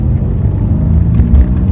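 A 2016 Mercedes C63 AMG drives along, its exhaust giving a deep, steady low rumble with a slight throb, close and loud, with no talking.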